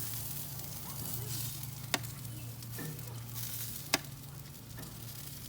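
Bacon-wrapped asparagus cooking in a pan gives a soft, steady sizzle and crackle throughout, broken by two faint clicks.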